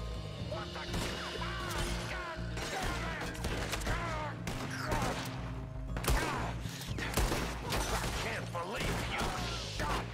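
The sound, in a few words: gunfire in a shootout, from a video game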